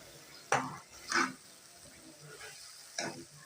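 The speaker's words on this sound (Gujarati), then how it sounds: "ટમેટાને આપણે અંદર સરસ રીતે હલાવી લઈશું" Quiet scraping and stirring of tomato in a pan of oil left from frying muthiya, a few distinct strokes spaced out over a low background.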